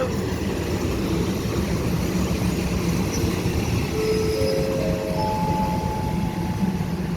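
A special train pulls into a Thai railway station, with a loud continuous rumble of rolling wagons and rising squeals from the wheels as it slows, and no talking.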